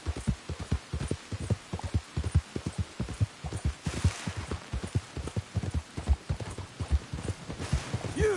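Horse hooves clip-clop in a steady, rhythmic walking gait in Red Dead Redemption 2, close and continuous over a low background hum.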